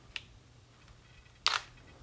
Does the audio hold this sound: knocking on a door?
no